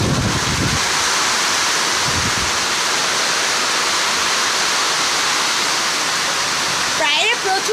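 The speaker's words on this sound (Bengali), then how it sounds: "প্রায় প্রচুর বৃষ্টি" Heavy rain pours steadily outside near a kitchen, a dense continuous broadband roar like rushing water; a few brief voice sounds rise at the start and end.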